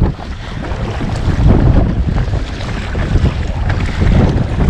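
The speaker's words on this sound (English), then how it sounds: "Having to fight hard to get through this wind." Strong winter wind roars across the microphone of a kayak out on Loch Lomond, a loud, gusty buffeting with splashing water beneath, continuous and close, with no voices.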